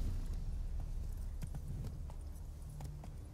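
Horse hooves in the video game The Witcher 3: Wild Hunt, a steady clip-clop of hoofbeats at a moderate volume over low rumbling game ambience.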